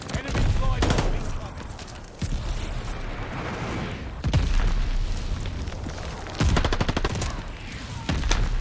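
A Bren machine gun firing in Call of Duty Vanguard, sharp bursts of rapid automatic fire and loud booms up close, with battle noise and a voice heard in between.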